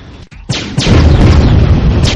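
Laser satellite strike explosion in the Warzone 2100 strategy game: a brief dropout, then a series of loud blasts that build into a dense, continuous roaring rumble.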